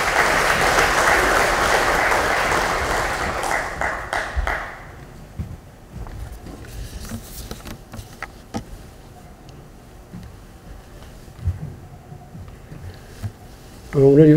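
Audience applause at a Democratic Party lawmakers' workshop rings out loudly for about four seconds, then cuts off, leaving quiet room noise with scattered knocks and faint murmurs.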